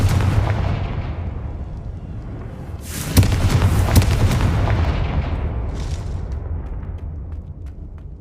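Confringo blasting spell explosion in the Hogwarts Legacy video game, a loud rumbling blast with sharp cracking impacts around the middle, then a long roaring decay, heard alone without speech.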